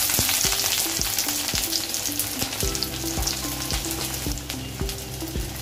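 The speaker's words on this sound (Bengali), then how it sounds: "কড়াইয়ে কিছুটা সরিষার তেল দিয়ে দিয়েছি, এখন দিয়ে দেব পেঁয়াজ" Onions sizzle loudly in hot mustard oil while a utensil repeatedly knocks and scrapes against the pan in an uneven rhythm.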